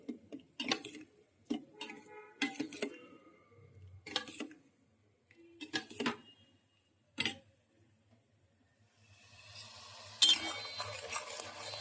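A spoon scrapes and taps against a pan while a spice masala of onion, garlic, ginger, tomato and green chilli is sautéed for a fish and mung dal curry: irregular close clinks and scrapes, ending in a rising soft sizzle.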